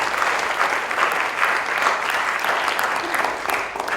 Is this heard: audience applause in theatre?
yes